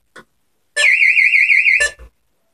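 A burglar alarm sounds during a test: a loud, rapidly warbling electronic siren held for about a second, framed by short blips before and after, heard through an open window with no talk.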